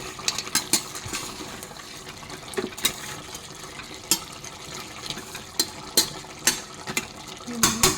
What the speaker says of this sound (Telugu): ఇప్పుడు మనం తిప్పుకోవాలి.